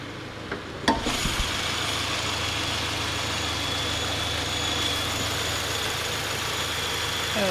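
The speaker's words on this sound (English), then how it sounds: "This is a boxer engine." A Subaru Outback's 2.5-liter boxer engine idles with a steady low rumble and hiss, close by, after a brief clunk at the start.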